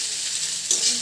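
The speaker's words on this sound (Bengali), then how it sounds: "তো চাউমিনটা গরম করছি খাবো বলে" Leftover chowmein reheating in a hot pan, a steady close sizzle with stirring, its texture shifting briefly partway through with no talking.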